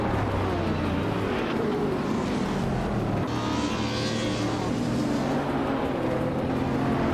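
2012 Jaguar CX-75 supercars racing in a video game, their engines droning loudly and steadily as the pack pulls away, pitch rising and falling through gear changes, with no break in the roar.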